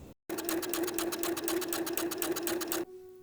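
A sewing machine runs at a fast, steady stitching rhythm with a rattling mechanical clatter and a constant motor whine, starting abruptly and stopping near the end.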